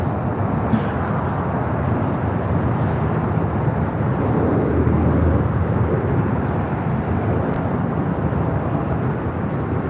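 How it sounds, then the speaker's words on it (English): A Global 6000 business jet takes off at LAX, heard as a loud, sustained low-pitched engine roar across the stretch, with a few faint clicks on top. "It's Global 6000 taking off to Phoenix."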